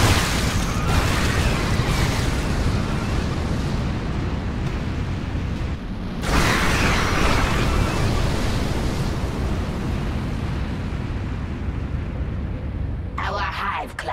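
A StarCraft 2 nuclear blast lands as a huge, sustained roar of rumbling noise that briefly drops out midway, swells again and keeps rolling, with a short bright crackle near the end.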